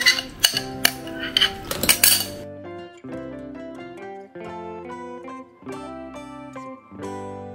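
A utensil scrapes and clinks against a bowl while soaked dry fruits are stirred into eggless plum cake batter, sharp taps at first, then a melodic music bed continues.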